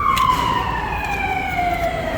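Ambulance siren sweeping in a steady descending wail, loud and close, over a constant rumble of road and background noise, with no talk.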